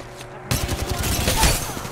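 Gunshots in an Apex Legends match break out suddenly after a quiet moment, a rattling volley of rapid shots at close range that carries on to the end.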